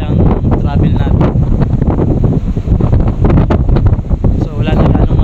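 Strong gusts buffet an outdoor microphone near the water, producing loud, uneven rumbling bursts that rise and fall throughout, with a voice speaking intermittently underneath.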